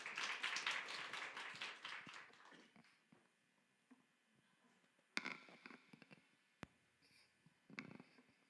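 Church congregation applauding during a Sunday worship service, a burst of dense clapping that fades after a few seconds, followed by scattered taps and knocks in a quiet room.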